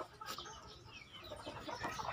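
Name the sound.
chickens clucking in a breeding area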